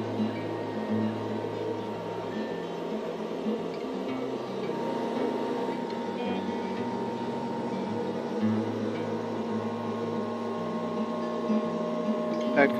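A CNC router carves a lake contour map into a clamped wooden board, giving a steady mechanical whir and hum with slight shifts in pitch, continuous and moderately quiet throughout.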